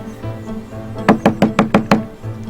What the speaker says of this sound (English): You call that knocking? Show 'em who's boss. Give it a thump.